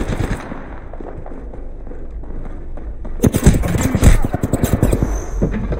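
Gunfire in Apex Legends, starting as a muffled rattle and then bursting into close, loud rapid automatic shots, a quick string of sharp cracks toward the end.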